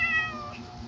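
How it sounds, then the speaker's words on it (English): A big cat gives a single clear, drawn-out meow, close by and moderately loud, lasting under a second. "Oh, that's a big cat."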